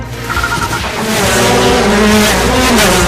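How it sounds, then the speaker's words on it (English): IndyCar race car engine screaming at high revs during racing in Toronto, a loud, close, harsh whine that climbs in pitch and holds at full volume. "IndyCar kicks into high gear in Canada's largest city."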